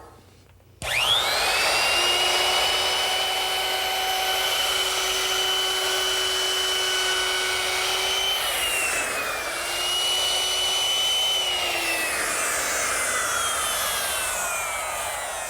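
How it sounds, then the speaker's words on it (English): A router fitted with a 1/4 inch round-over bit eases the back edges of a wooden mirror frame, a loud steady high-pitched whine that starts abruptly and runs continuously with slight pitch dips as it cuts. "With another router bit change to a 1/4 inch rounding over bit, I can now ease the back edges of the frame."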